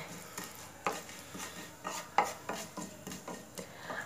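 A spoon stirring cumin and mustard seeds in hot oil in a pan while making bhakarwadi: repeated light metallic scrapes and clinks in an uneven rhythm, close and fairly quiet, over a faint sizzle.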